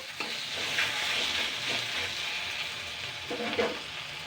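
Eggplant and potato pieces in hot oil make a soft, steady crackling sizzle, with a few louder stirring scrapes and no voices.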